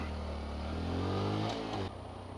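A Honda Grom MSX125 motorcycle climbs back onto the road over a small curb, its engine droning steadily and rising slightly with throttle before a brief clunk and a drop in revs near the end.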